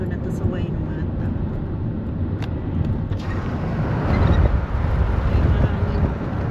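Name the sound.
wind blowing outdoors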